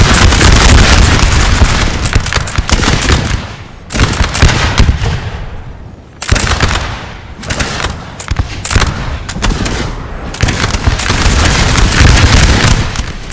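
Musket lines trading volley fire in Napoleon Total War at Borodino, Russians against Poles, a loud, dense roll of overlapping shots and booms that surges in waves with brief lulls between.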